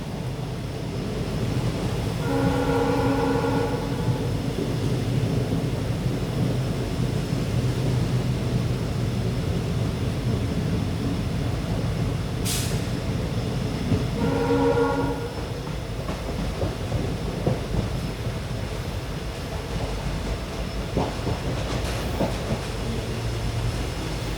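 A Mangaluru–Bengaluru special train rolls slowly past unmanned level crossings, a steady rumbling roll of wheels on track broken by two long horn blasts, one early and one midway.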